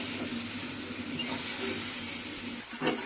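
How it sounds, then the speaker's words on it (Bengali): Onions fry in oil in a pan with a steady, close hiss and faint crackle that holds evenly throughout, with one small clatter near the end. "তেল দিয়ে পেঁয়াজ দিয়ে দিয়েছি, দিয়ে ভাজতে দিয়েছি"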